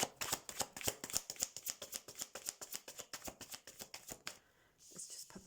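Tarot cards being shuffled close by in a quiet room, a rapid run of crisp flicking and riffling taps that ends with a brief pause and a final soft shuffle.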